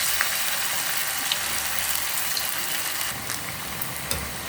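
Dough balls for an evening tea snack deep-frying in hot oil in a home kitchen, a steady close bubbling sizzle with faint crackles throughout, no voices.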